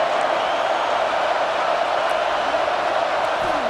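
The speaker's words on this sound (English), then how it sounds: "This crowd, full throat, splitting the eardrums and letting them know it's going to be a long day." A steady, dense stadium crowd roar in EA Sports College Football 26, loud and unbroken throughout with no individual voices standing out.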